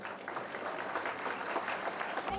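Audience applause at a public event for a municipality, steady clapping from a crowd continuing evenly throughout at moderate distance.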